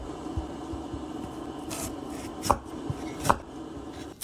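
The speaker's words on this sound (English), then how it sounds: "So first, just cut off the skin from the outside." Knife paring the skin off a taro root on a cutting board, a few soft scraping cuts with two sharper knocks of the blade, close and fairly quiet against a low background hum.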